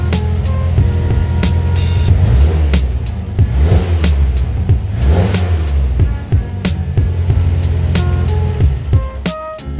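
A Toyota KE70 Corolla with a newly fitted exhaust runs loudly up close, revving repeatedly in rising and falling surges over a throaty idle.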